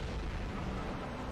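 Vellum, a boss in MapleStory, gives a fire attack cue: a dense, rumbling roar like a blast or eruption that fills the short moment at steady loudness.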